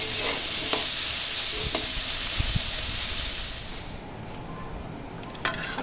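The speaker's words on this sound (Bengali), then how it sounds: "কুমড়ো আর করলা একসঙ্গে নেড়ে ভেজে নেবো" Bitter gourd and pumpkin pieces stir-fry in a pan with a steady, close hiss of sizzling oil and a few soft scrapes of stirring, tapering quieter near the end.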